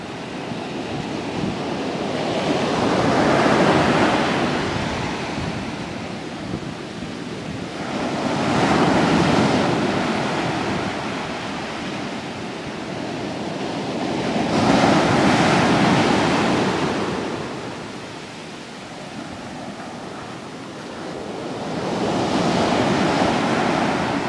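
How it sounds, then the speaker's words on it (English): Storm waves pound the coast at Clay Castle, Youghal, in the south of Ireland during the January 2014 storms: four loud surging crashes roll in at steady intervals under constant buffeting wind noise, with no voices. "Obviously not waves this big, as small as this, but they must have been some size."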